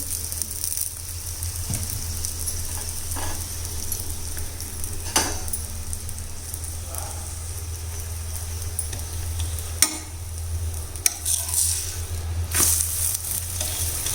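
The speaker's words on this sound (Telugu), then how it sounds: "తిప్పుకొని మళ్ళీ కొంచెం ఆయిల్ వేసుకొని ఈ పక్క కూడా కొంచెం కాల్చుకోండి" Aloo paratha roasting in oil on a hot pan over high flame, a steady close sizzle running throughout with occasional scraping and clinks of a spatula, no voices.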